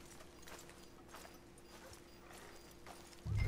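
Horse hooves clip-clop in steady rhythm in Red Dead Redemption 2, fairly faint and close, ending with a louder thump.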